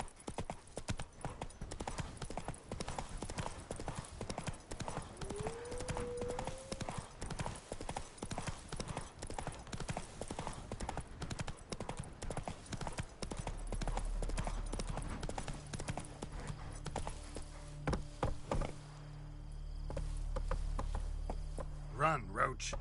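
Roach, a horse in The Witcher video game, gallops with rapid rhythmic hoof clip-clops on the ground, close and fairly loud. Game sounds shift near the end.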